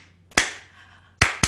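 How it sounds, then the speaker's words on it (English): Hands clap three times, sharp and close: a single clap followed after a pause by two quick ones, over near silence. "keep clapping"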